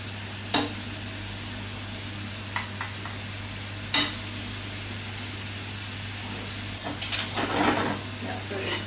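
Sauce reducing in a wide, very hot pan, a steady low sizzle with a few sharp clinks and scrapes of a utensil against the pan, close by.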